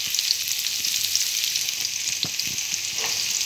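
Onion sizzling in hot oil with cumin seeds in a pan, a steady close hiss of frying that carries on throughout with faint occasional stirring taps, no voices.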